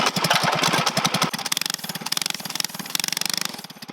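Coleman CT200UEX mini bike with a modified exhaust, its small single-cylinder engine revving loud and close, then settling into a rapid, lumpy idle with distinct pulsing exhaust beats.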